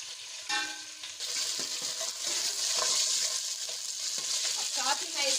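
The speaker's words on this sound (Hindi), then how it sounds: "ऑयल हमारा गर्म हो चुका है। मैं इसके अंदर सबसे पहले पाए शामिल करूँगी।" Goat trotters fry in hot oil and are stirred, giving a steady, close sizzle with scraping and clinking of the spoon throughout.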